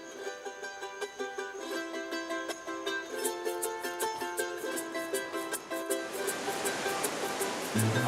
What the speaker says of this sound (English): Oh boy, this water is moving fast.